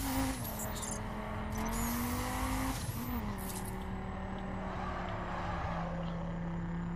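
A car driving in The Crew video game on PS4, engine droning steadily with pitch rising and falling through gear changes, near and continuous, with a brief tire squeal partway through.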